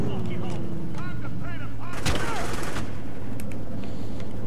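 Gunfire in Grand Theft Auto IV: a sharp loud shot bursts out mid-clip amid busy game sounds, with scattered impacts, engine hum and voices around it.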